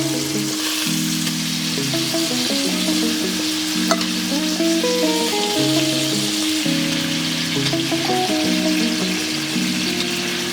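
Ribeye steak frying in a pan with butter, rosemary and thyme, a loud, dense sizzle running continuously under a steady tonal background melody, close up and with no talk.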